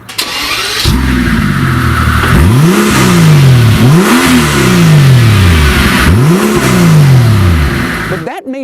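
A Mercedes-AMG G65 engine cranks to life and is revved hard several times in a row, each loud, close blip rising and falling back to idle, with no talking over it.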